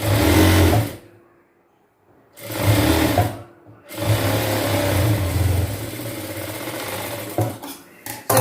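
A sewing machine stitches the lining of a blouse in three loud, near bursts of rapid whirring, separated by brief pauses, with a few small clicks near the end.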